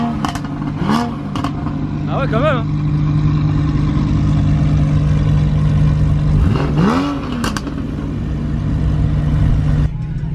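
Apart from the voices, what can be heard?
naturally aspirated flat-six car engine accelerating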